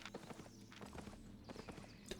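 Gallant horse hooves in the video game Albion Online, a quick rhythmic clip-clop of galloping steps, faint and close, repeating steadily.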